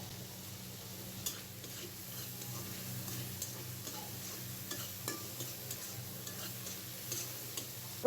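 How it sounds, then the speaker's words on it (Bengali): Chopped spiny gourd being stirred with salt, red chili powder and roasted cumin in a pan, faint scraping and light sizzle with soft irregular ticks, no talk. "কিন্তু কাঁকরোল কুচানোগুলো এখন মিশাই নেব। ভালোভাবে মিশাইয়া নিলাম।"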